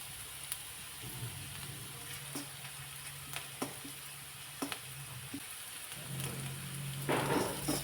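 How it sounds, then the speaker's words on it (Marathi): Chopped onion and crushed garlic sauté in a pan, sizzling in a steady, fine crackle with occasional stirring clicks and scrapes, and the frying grows a little louder toward the end. "आता हे चांगलं व्यवस्थित कांदा लालसर होईपर्यंत परतून घ्यायचे"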